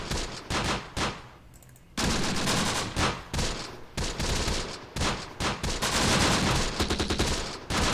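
Dense gunfire rolls through a gunfight in the Close Combat: The Bloody First war game, with rapid machine-gun bursts and overlapping rifle shots, loud and nearly continuous, broken by one brief lull.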